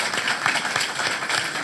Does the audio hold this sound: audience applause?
yes